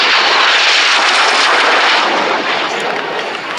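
A Lockheed Canadair CT-133 Silver Star (T-33 jet) roars past at an air show at over 400 mph, a loud, broad jet rush that fills the sound and slowly fades as it moves away.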